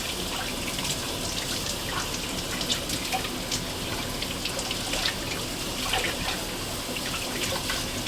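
Small young rabbit carcasses rinsed under a running kitchen tap, a steady close splash of flowing water with light spatters and trickles throughout, with no talking.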